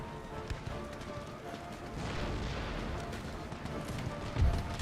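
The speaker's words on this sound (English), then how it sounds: "oh, the cannons have opened fire as well." Cannons fire in a battle in Empire Total War, heard as faint, distant low booms and rumbling over a soft background of battlefield noise, with one stronger thump near the end.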